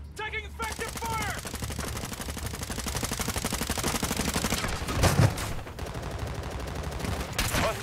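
Sustained automatic gunfire in Call of Duty: Modern Warfare II, rapid rattling bursts running almost continuously, loud and close, with a heavier thump partway through and voices briefly mixed in.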